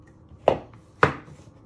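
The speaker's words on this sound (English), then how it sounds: "then you chop it down the middle" A knife chops through a winter vegetable on a chopping board in two sharp, distinct cuts about half a second apart, close and clear against a quiet kitchen.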